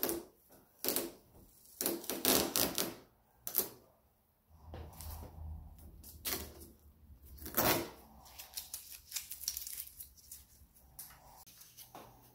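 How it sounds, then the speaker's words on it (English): Masking tape is peeled off a fiberglass Honda EF Civic hatch spoiler in a series of crackling, ripping pulls, some sharp and some softer, separated by quiet pauses. "Now I'm going to remove the masking tape"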